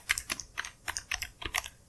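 A URL is typed on a computer keyboard: about a dozen close, crisp key clicks in an uneven, steady rhythm, with no other sound.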